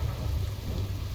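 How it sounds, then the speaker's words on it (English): Steady rain and low rolling thunder in the Biomutant video game, a dense continuous storm wash with heavy rumble underneath, loud and unbroken with no voices. "I mean, it's only raining."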